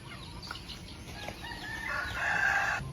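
A rooster crows once, fairly close, its call rising and swelling over a faint background hum, with no voices.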